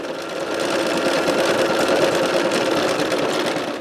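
A quilting sewing machine runs steadily while stitching into the corner of a quilt, its needle making a continuous, close, even mechanical whir for the whole span with no talk over it.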